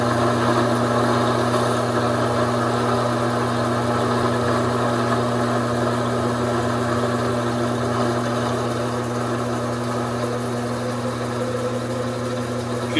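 Taig lathe running steadily with a spring parting tool cutting off the workpiece, a loud continuous motor drone with a strong steady hum and no pauses throughout.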